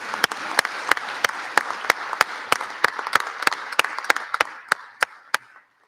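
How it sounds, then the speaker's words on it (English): An audience at a Constitution Day event applauds a judge after his talk, a modest group clapping in sharp, distinct claps that thin out and stop after about five seconds. "Everyone give him a round of applause for speaking us today."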